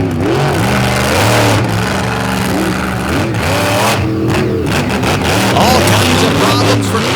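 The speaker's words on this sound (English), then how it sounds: "A good start for both trucks into the first turn." Monster trucks at an arena show in Chattanooga power into the first turn, their engines roaring loud and continuous with repeated rising and falling revs while a commentator talks over the noise.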